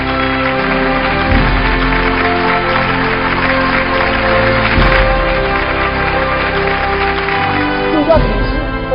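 An audience claps warmly at a Suzhou television storytelling anniversary awards ceremony, dense sustained applause filling the hall for the whole stretch, loud and close.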